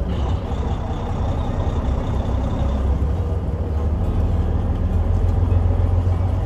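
A truck idles and rumbles close by on a road, a loud steady low engine drone with broadband road noise and no talking.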